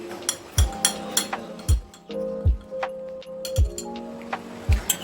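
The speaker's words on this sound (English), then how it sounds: "Mix it well." A spoon mixes cocoa powder, baking powder and baking soda into blue velvet mug cake batter inside a mug, making a steady run of light, ringing clinks against the ceramic with soft thumps in between.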